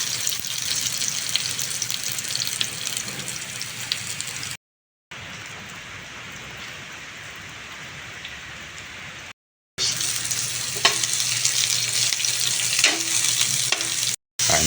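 Ginger sizzles in hot frying oil with a steady, bright crackle and hiss, loud and close, broken by two short silent gaps and a few sharper pops near the end, no voices.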